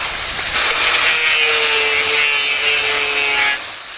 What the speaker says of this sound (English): was still sanding his top piece of crystal glass